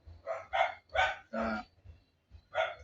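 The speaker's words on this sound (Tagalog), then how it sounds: "medyo maingay yung mga alaga kong aso sa labas." Dogs kept outside bark in a quick series of about five sharp woofs, moderately loud with brief pauses between them, and no talking.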